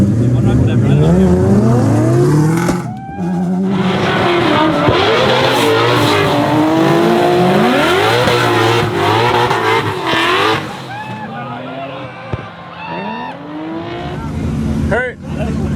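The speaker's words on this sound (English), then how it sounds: "Hit it in the Corvette. I want to see how it does." A Corvette race car drifts at the LZ Invitational, its engine revving hard in rising and falling sweeps under sustained squealing tires, loud and close, with people talking over it.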